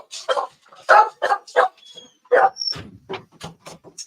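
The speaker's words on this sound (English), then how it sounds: "That's a daddy's home bark, is what I'm hearing." A dog barks at home in a quick run of sharp, loud barks and yips, close by, with a brief whimper between bursts and no voices.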